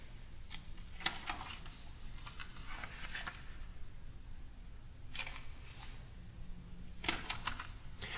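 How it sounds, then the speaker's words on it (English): A large square of origami paper is creased and folded diagonally, giving faint, sparse papery swishes and crisp crackles in bursts against a quiet background. "Begin by folding in half diagonally both ways,"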